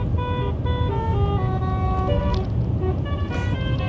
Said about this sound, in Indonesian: Kayak ambulan deh.